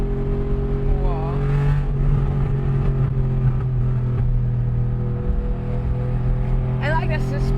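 RWB Porsche 993 heard from inside while driving, its engine roaring loud and steady with rising revs and gear changes, a person talking over it.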